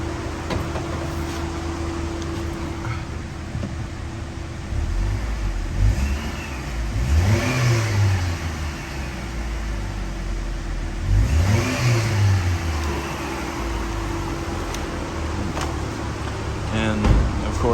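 A 2014 Chevrolet Impala engine running with a steady hum that rises in two revs and falls back to idle, close and continuous, while someone talks over it.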